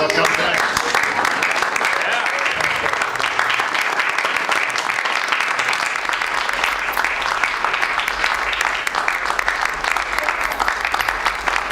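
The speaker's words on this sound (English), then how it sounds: "So applause all around for President Trump" Applause breaks out around President Trump as he signs documents and proclamations, a steady crowd clapping that runs unbroken, with a low hum joining partway through.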